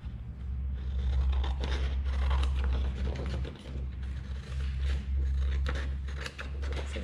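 Scissors cut out a traced shape for a homemade toy playhouse, giving a series of close, irregular snips and rustles over a steady low background hum.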